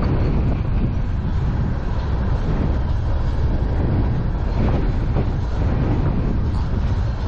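A loud, continuous rumble of a passing CN manifest freight train, steady rolling noise with wind buffeting the microphone throughout.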